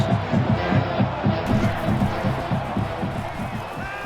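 Simulated stadium crowd in the NCAA Football 20 video game for Auburn at Florida, loud and pulsing, with rhythmic chanting and stomping beats under a steady roar that eases slightly toward the end.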